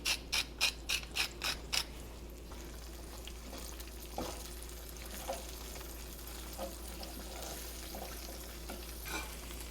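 A pepper mill grinding over eggs being seasoned in a pan, about seven quick ratcheting twists at the start, then a quiet sizzle with a few faint clicks.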